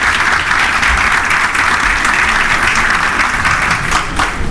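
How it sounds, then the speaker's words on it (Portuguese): An audience at an aviation employment and legislation talk applauds warmly to welcome a speaker, a steady, loud and close burst of clapping from many hands with no talk over it. "convido a todos para recebê-los com uma calorosa salva de palmas"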